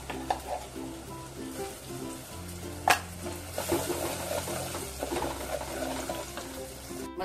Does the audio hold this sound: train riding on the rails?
no